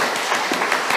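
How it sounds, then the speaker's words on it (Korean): Church congregation applauding the choir and its director at the Easter Vigil, a brief full burst of many people clapping in a reverberant hall. "단장님하고 박수 한번 부탁드립니다"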